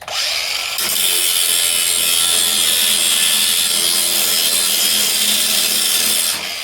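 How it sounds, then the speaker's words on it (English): A battery-powered handheld grinder cuts the metal ears off a US General Harbor Freight mechanic's tool box: a loud, steady high-pitched whine that starts abruptly and runs almost unbroken for several seconds, then stops. "I gotta grind these ears off"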